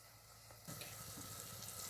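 Water pours into a cooking pot of soaked rice for ghee rice, a soft splashing stream that starts abruptly partway through and continues steadily, close but quiet.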